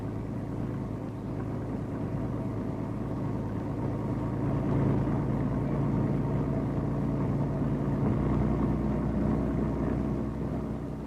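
A Ford automatic car accelerates gently, a steady low engine hum and road rumble holding evenly throughout, muffled as if heard from inside the cabin, with no talking.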